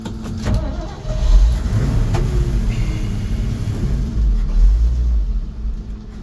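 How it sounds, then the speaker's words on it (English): The engine of a 1985 Ford F700 dump truck rumbles low and steadily as the clutch is released. The deep idle is close, with a few faint clicks and knocks over it. "Now I'm gonna try to move it. I'm releasing the clutch now."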